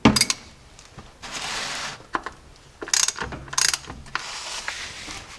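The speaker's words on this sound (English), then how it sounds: "Now I'm going to go ahead and tighten up the fill plug." A ratchet tightens the fill plug on a vehicle transfer case, giving quick clicking bursts of the pawl with short pauses and a few metallic clinks, close and with no talking.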